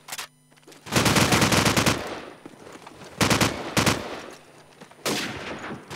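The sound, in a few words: gunfire in a video game esports match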